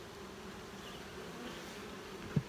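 Honey bees buzzing faintly in an open beehive, a soft steady hum with no voices and one brief close thump near the end.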